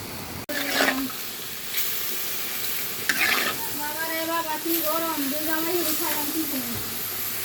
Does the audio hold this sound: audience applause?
no